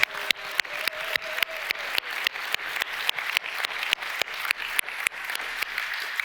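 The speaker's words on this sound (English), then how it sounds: "We should give them a very big round of applause." A big round of applause from a conference audience at the DLD fashion panel, fairly close and steady, with sharp, regular individual claps standing out above the crowd's continuous clapping throughout.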